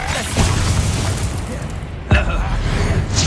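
The Expelliarmus disarming spell in the video game Hogwarts Legacy goes off as a sharp burst with a booming crack, in the middle of ongoing combat noise while a voice calls the spell.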